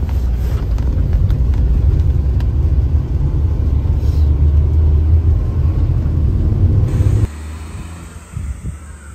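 Loud, steady engine and road rumble inside a car climbing a mountain road in Akita, Japan, holding constant for about seven seconds before dropping abruptly to a quieter, uneven idle.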